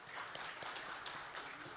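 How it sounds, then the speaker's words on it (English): An audience at an awards ceremony in a Baku hotel ballroom claps in a dense, steady wash of many hands, loud and sustained for nearly two seconds. "give a huge round of applause for your self"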